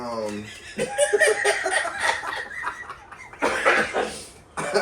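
Someone coughs a few times, mixed with laughter and chuckling from people nearby, and a louder rough burst near the end.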